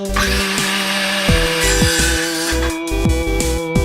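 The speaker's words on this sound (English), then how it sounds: "we're just gonna move straight on to cutting some wood." Close, loud power sawing through wood, a steady grinding whine with rhythmic strokes throughout.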